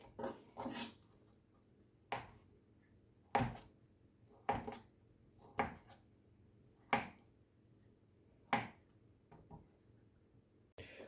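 Knife chopping boiled potatoes on a cutting board for vinegret salad, a series of about nine sharp, separate knocks at an uneven, unhurried pace, close and clear with no talk.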